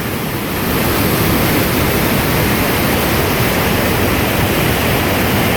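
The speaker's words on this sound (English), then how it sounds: "we're down underneath the bridge now, and the water's really moving through here" Loud, constant roar of a river rushing beneath a bridge, a dense broadband wash with no pauses, close by and unbroken throughout.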